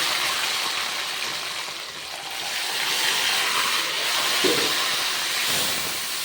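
Spice paste hits very hot, nearly scorching oil, giving a steady, loud broadband sizzling hiss that swells and eases slightly throughout, with no voices.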